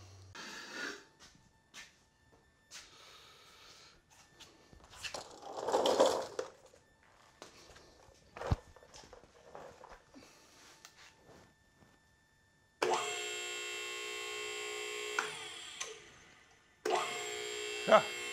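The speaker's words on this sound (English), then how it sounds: "And then we just plug the pump in to an extension cord." The electric pump of a Max Jax car lift, plugged into an extension cord, hums loudly and steadily after quieter handling noises and talk, cuts off briefly, then starts again.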